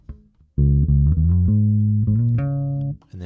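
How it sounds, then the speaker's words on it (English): Electric bass guitar played with both pickups engaged, a run of sustained, deep notes changing pitch in steady succession, close and loud with no talking over it. "here I'll just play this bass for a second so you can hear it a little more"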